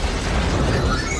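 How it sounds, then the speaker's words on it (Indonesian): A concussion grenade explodes in the film Fast & Furious 8, a short, loud, dense boom with a low rumbling body that fills the brief moment without a break. "Next generation concussion grenade."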